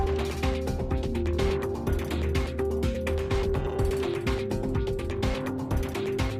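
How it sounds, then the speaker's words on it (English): Steady, loud mechanical whirring with repeated ratcheting clicks and grinding gear noise from a turning machine working Delhi Metro construction segments, continuous throughout with no voices. "Each of these segments are put on to turning machines for turning."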